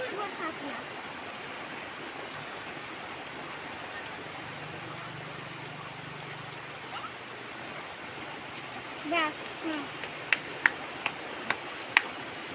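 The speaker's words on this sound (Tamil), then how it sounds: "இவ்வளோ மழை பெய்யுது பாருங்கள்." Heavy rain pours steadily, a dense constant hiss with water running nearby, and toward the end a few sharp drips tap and tick against a hard surface.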